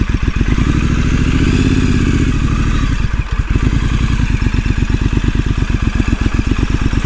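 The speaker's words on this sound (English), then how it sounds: "I have gone off-road on the Street Scrambler." A Triumph Street Scrambler motorcycle rides off-road on a trail in Belgium, its engine thumping in a loud, rapid, steady pulse close up, with a brief dip midway.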